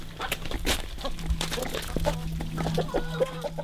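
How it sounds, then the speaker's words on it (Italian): Farmyard hens cluck in short repeated bursts, fairly close, over a steady low background hum with no talking. "guardo le galline"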